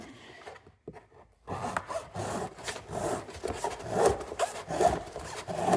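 Used Honda oil filter being cut open, a close rough rasping saw-like scraping in rapid uneven strokes after a short pause, steady and moderately loud without talk.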